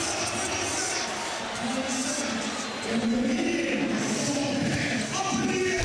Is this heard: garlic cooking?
no